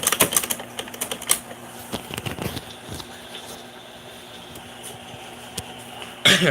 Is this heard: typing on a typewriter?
yes